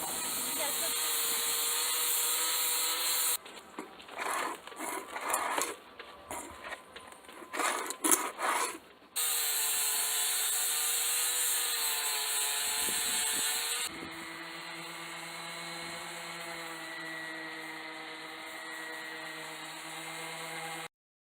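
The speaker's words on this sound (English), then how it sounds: "got a new tool, a new grinder, so I won't get electrocuted next time" A new cordless angle grinder whines steadily at a boatyard during bottom-job prep work, its loud continuous tone broken by bursts of uneven grinding, a short pause, then a lower steady hum toward the end.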